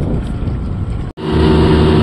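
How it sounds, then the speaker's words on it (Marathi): A fishing boat's engine running on the way back to Shrivardhan creek, a loud, steady low drone with wind buffeting. There is a brief dropout midway, then the hum resumes, with no talk. "पुन्हा एकदा आपण इंजिन स्टार्ट केले आणि जातोय श्रीवर्धन खाडीमध्ये"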